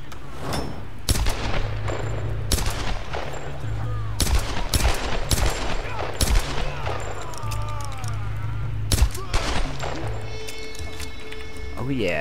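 Gunfire in the Tomb Raider video game comes in repeated sharp bursts and single shots mixed with in-game sounds. Speech is heard throughout alongside the shots.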